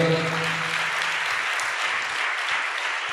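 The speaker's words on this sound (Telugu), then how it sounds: "చప్పట్లు కొట్టండి గట్టిగా" A church congregation at a Sunday worship service claps together in a dense, even burst of applause close by, with a brief trailing vocal tone at the very start before the clapping carries on alone.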